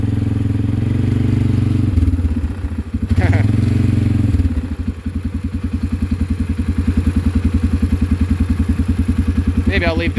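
A small go-kart engine runs close by, first with a rough, uneven idle and a brief surge, then settling into a steady, rapid putter that carries to the end, with people talking over it.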